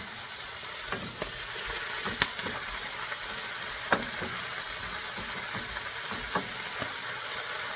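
Chinese broccoli frying in a pan gives a steady, close sizzle, broken by scattered sharp clinks and scrapes as it's stirred, with no voices.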